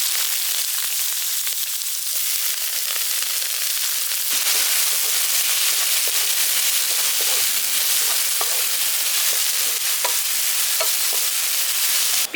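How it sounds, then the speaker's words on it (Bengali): Chopped onions fry steadily in a pan, a loud continuous crackling sizzle with occasional stirring scrapes, close and alone without any talk. "পেঁয়াজটা এখানে ভাজা হয়ে গেছে,"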